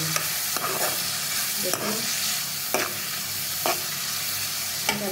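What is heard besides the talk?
stirring tomato and beef keema frying in the pan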